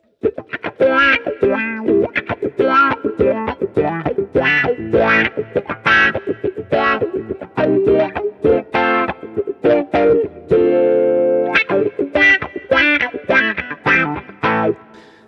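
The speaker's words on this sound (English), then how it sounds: "you'll notice I'm getting lots of different dirt sounds" Loud overdriven electric guitar playing a fast, busy riff with gritty, crunchy distortion and brief sustained chords, no talking.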